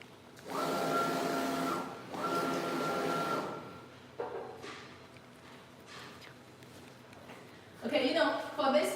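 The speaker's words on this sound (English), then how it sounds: "start printing on the wood board" A wall printer lays down a flower design on a wood board, its print head sweeping in two long loud mechanical passes followed by shorter whirring and clicking movements, with no one talking over it.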